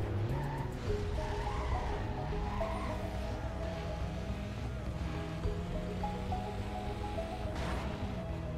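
A BMW M3 GTR racing car in Need for Speed Most Wanted drives with a continuous engine drone that rises and falls through gear changes, steady and moderately loud, without speech.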